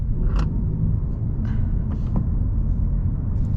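A 2020 Honda Civic Si, 10th gen, running a KTuner tune, drives along with a steady low engine rumble and road noise from inside the car, without any talk.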